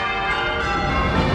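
Church bells ring out in a city, a sustained, resonant metallic tone with rich overtones that hums on without a clear new strike, fairly loud and close.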